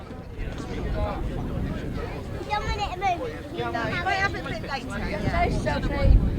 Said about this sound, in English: they're revving up on the line for race 22